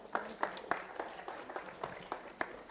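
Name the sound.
applause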